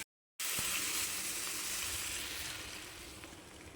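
Milk poured into a hot pan of ghee-fried ingredients for sabudana carrot kheer, bursting into a loud steady sizzle after a brief silence and gradually easing off; no one speaks.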